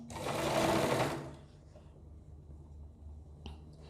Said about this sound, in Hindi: किनारे पे सिलाई लगा लेनी है जैसे मैं लगा रहा हूँ